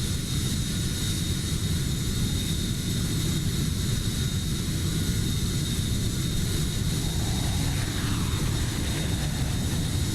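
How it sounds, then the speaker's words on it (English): Steady jet engine roar from an MD-80 Maddog airliner in the Microsoft Flight Simulator game, a constant loud broadband drone that holds without change for the whole stretch, with no talk over it. "You can definitely hear the afterburning engine noises there"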